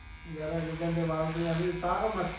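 An electric hair clipper cuts hair with a steady, close mechanical buzz that holds level throughout, while a voice talks over it.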